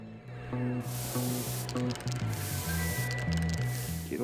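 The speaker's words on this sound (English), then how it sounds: "can I spray paint here now?" In the Bully video game, spray paint hisses out of an aerosol can in two bursts, a sharp airy rush heard close, over a steady backdrop of game music with no talk.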